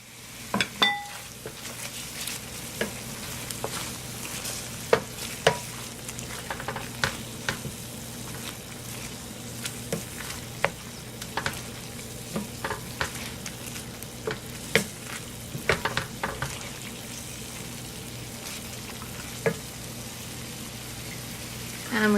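Spaghetti with parsley and white wine frying in a pan, a steady close sizzle with scattered stirring clicks and pan knocks throughout, no talking.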